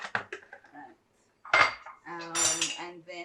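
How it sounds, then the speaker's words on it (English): Milk and two eggs are whisked together in a bowl in a home kitchen: a few sharp metal clinks against the dish in short bursts, with a voice talking briefly between them. "1/4 cup of milk and 2 eggs, and we're just gonna whisk that together"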